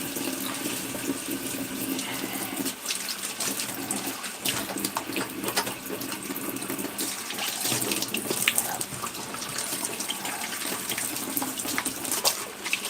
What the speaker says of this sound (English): Now this is all well water, it's all pumped from a well,